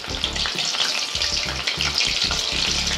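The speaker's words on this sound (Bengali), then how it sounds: "কড়াইয়ের মধ্যে তেল গরম করতে দেব এবং তেল গরম হয়ে গেলে আমরা আমাদের এই বড়াটি ছেড়ে দেব" Water lily fritters frying in hot oil in a pan, a loud, dense, continuous sizzle and crackle heard up close with no voices over it.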